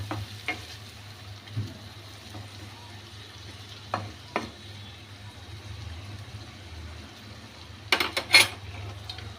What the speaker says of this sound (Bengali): জল দিয়ে একটু নাড়ানাড়ি করছি।